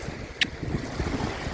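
Wind and lake water on the Bruce Peninsula, a faint, steady wash of wind and gently lapping water with one short sharp tick early on, heard alone for a brief moment.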